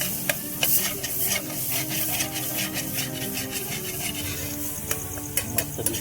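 Eggplant bharta being stirred with salt, chili powder and oil, giving a steady scraping and rubbing of spoon against pan over a soft background sizzle, continuous and close.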